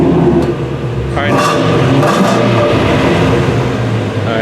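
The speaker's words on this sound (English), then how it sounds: "So go ahead and rev it." A Ford Mustang, either a 2016 GT350 or a Roush Stage 3 RS3, revs with its active exhaust switched on, a loud, close engine roar rising and falling across the clip while people talk over it.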